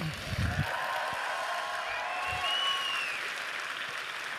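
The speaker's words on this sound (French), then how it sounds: "applaudissements." Audience applause for performers at a Disneyland Paris show presentation, a steady wash of clapping from a crowd, fairly distant and even throughout, with no talk over it.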